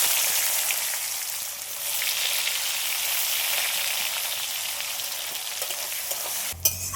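Chopped onion frying in hot oil with dried red chillies, cardamom, cloves, cinnamon and cumin for a mutton dish: a loud, steady, dense sizzle that runs throughout, with a sharper clatter near the end.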